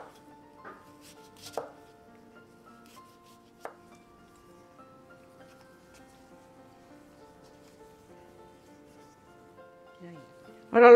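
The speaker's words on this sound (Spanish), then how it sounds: "Ahora voy a cortar unas rodajas de limón para ponérselas por encima." A knife slicing a lemon into rounds on a board gives a few sparse, soft cuts and taps near the start, with quiet kitchen stillness between and a louder clatter at the very end.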